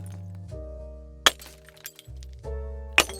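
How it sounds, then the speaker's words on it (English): Bags of glass are smashed in two sharp, crunching crashes a couple of seconds apart, heard over soft sustained background music. "He took those bags of glass and smashed them."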